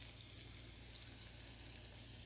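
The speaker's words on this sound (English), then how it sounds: "Listen to that sizzle." Okra sizzling in a skillet on a home kitchen stove, a steady dense hiss of frying that holds evenly throughout with no talk.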